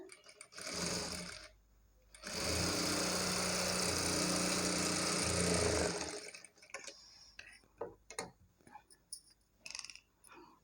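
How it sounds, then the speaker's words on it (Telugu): A sewing machine runs a top stitch along a shaped belt, with a steady whirring burst of about four seconds, a short start before it and brief clicks and handling afterwards. "దీనిపై నుండి మళ్ళీ ఒక స్టిచ్ వేసేసుకోవాలి టాప్ స్టిచ్"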